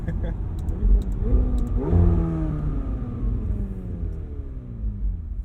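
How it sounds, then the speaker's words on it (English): A 2020 McLaren 720S Spider's turbocharged engine revs up with rising pitch and rumble, then eases off, accompanied by light turbo whirring and a few faint clicks. "You can really hear those turbo noises."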